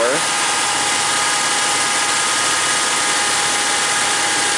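Buick Grand National engine idling high at about 2,000 rpm instead of its 700 target, a loud, steady, dense mechanical drone with a constant pitch and no letup, while a person speaks over it.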